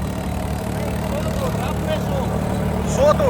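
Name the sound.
tractor running new 7-foot rotavator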